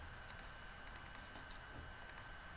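Typing on a computer keyboard with quick clustered keystrokes, faint and close against a quiet background hum, with no one speaking.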